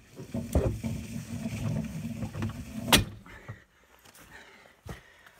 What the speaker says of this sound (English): I'm gonna spin the wheel by hand, and hopefully it'll chip it through so you see the way it works